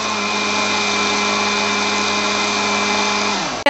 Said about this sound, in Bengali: থেমে থেমে 3-4 মিনিট আমি ব্লেন্ড করে নিব লাচ্ছিটাকে।